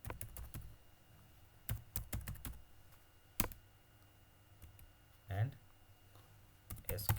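Bursts of quiet computer keyboard typing, rapid close clicks in short clusters with pauses between, while a person speaks at points.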